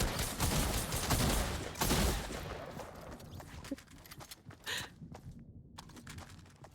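Gunfire in the video game Fortnite: dense, loud bursts of rapid shots fill the first few seconds, then thin out into scattered, sharper reports over a quieter background.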